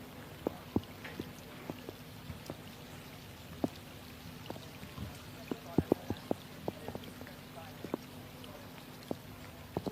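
Rain shower falling at a women's rowing regatta on the river at Henley, a steady wash of patter with scattered close drips and taps, faint and continuous throughout, with occasional voices in the background.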